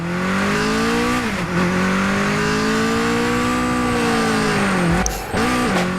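A race car engine in a street racing video game roars loudly and steadily, its pitch rising and dipping through gear shifts, with a brief drop near the end before revving up again.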